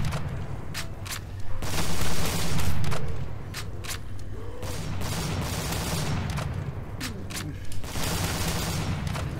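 The Gig A12 gun is fired in a Minecraft zombies game, producing rapid, repeated loud shots in dense bursts alongside game noise and mechanical clatter, with brief pauses between volleys.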